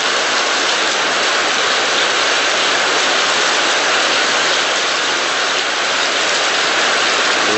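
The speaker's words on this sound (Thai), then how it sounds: "ถ้าผมฟังเสียงตาม ที่มันตกกระบอกหลังคานะฮะเสียงก็จะค่อยลงแล้วนะครับ" Rain falls steadily onto a roof and gutter, a dense, loud, unbroken hiss of drops with no voices.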